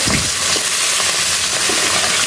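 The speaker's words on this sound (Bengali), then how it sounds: "দেখো মাছের মাথাগুলো সুন্দর করে ভেজে নিলাম" Fish heads fry in hot oil, giving a loud, steady sizzle and crackle that runs unbroken and close throughout, with no voices over it.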